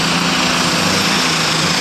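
A turbocharged Allis-Chalmers D21 super stock pulling tractor revs hard at a tractor pull, a loud, continuous high-pitched engine roar that holds steady throughout with no talk.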